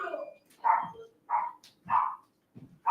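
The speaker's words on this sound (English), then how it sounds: "you can hear my dogs barking because someone just showed up." Several dogs bark in short, loud bursts at a new arrival, about five separate barks spaced roughly half a second apart, close by indoors.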